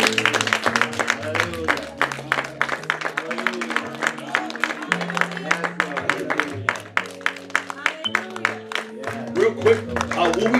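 A church congregation claps in loose rhythm during worship, with a steady patter of hands over sustained organ or keyboard chords and voices calling out.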